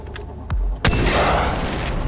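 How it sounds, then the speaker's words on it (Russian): Grenade launcher blasts in the video game Far Cry 4: a sharp boom followed moments later by a second, louder explosion with a long rumbling roar that fills the rest of the moment. "Очень реалистичные здесь в этой игре взрывы."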